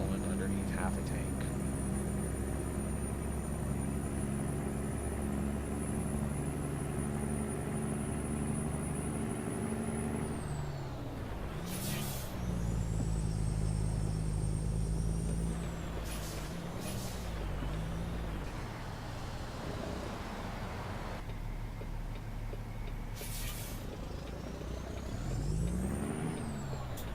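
A truck drives at speed in a trucking video game, a steady engine drone with whining, shifting tones and a few sharp bursts, loud and continuous, while someone talks over it.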